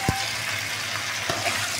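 Potatoes frying in a pan of hot oil for aloo potol chingri dalna, a steady sizzle and crackle that holds loud and even with a couple of brief taps.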